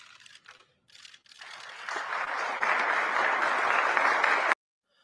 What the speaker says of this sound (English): Applause, big smiles.